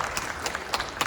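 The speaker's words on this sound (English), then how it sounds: "he's getting a round of applause for everybody" At a city council committee meeting, a room claps for charter reform commission members in a brief burst of scattered hands.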